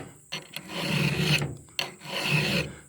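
Hand file rasping across chainsaw teeth in two smooth, even strokes, each a close, gritty scrape that builds and fades, separated by short metallic taps and pauses.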